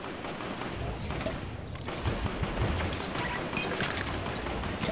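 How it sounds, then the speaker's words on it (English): Gunfire in the Fortnite video game, a dense, continuous fusillade of shots layered with booms and clatter, loud and sustained throughout with no speech. "Of course, somebody starts shooting me then."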